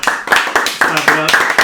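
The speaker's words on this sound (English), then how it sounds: "Clap it up for myself." A steady run of quick, sharp hand claps in an even rhythm, close and loud, with a voice running underneath.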